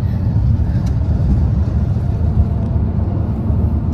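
Steady low rumble of a moving car's interior on an Uber ride, engine and road noise continuous and even throughout, no voices present.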